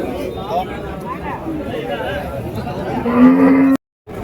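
Cattle at a busy cow market, a bull among them, with a low moo rising near the end over steady crowd chatter and nearby voices before a sudden cut.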